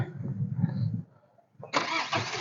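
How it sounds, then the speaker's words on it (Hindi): A vehicle's engine comes up on a narrow single-lane road through a tea garden in Bodoland, starting as a low rumble, dropping away briefly, then returning as a rougher, broader engine noise at moderate distance. "गाड़ी भी आ रहा है उधर पीछे से"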